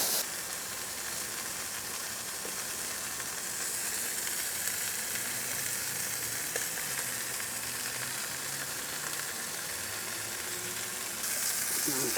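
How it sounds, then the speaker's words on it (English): Steak searing in a hot pan, giving a steady, loud, dense sizzle with crackling and hiss that continues without a break. "Oh yeah, we already got a sear on that, so let's go ahead and flip that over."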